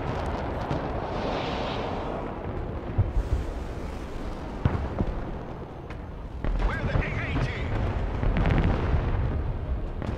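Rocket artillery strikes pound a village in the video game Broken Arrow: a dense, continuous rumble of explosions with scattered sharper bangs and crackling bursts, loud and sustained throughout.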